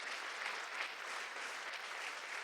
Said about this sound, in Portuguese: Eu queria que você desse uma linda salva de palmas pela vida do nosso pregador aqui.